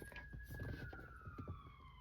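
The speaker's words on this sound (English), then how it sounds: "Confirmations, sirens." A faint, distant siren wails with a slowly falling tone over a low rumble of traffic, quiet throughout.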